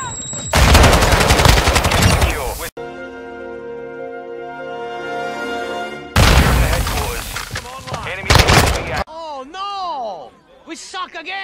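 Loud bursts of shotgun and rapid gunfire from Call of Duty Modern Warfare II, two heavy blasts of shooting separated by a tonal lull, ending in whooshing game effects.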